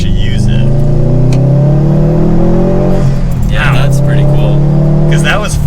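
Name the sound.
Subaru WRX STI engine revving through the gears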